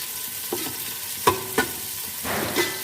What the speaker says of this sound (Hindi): खड़े मसालों को भी हम फ्राई कर लेते हैं।